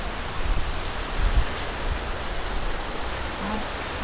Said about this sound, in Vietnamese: gió lớn.